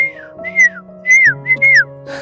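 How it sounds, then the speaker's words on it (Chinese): A person sitting up on a hillside whistles a short, bright tune of several rising and falling notes, loud and close, with no talking. "上面坐着都吹上口哨了"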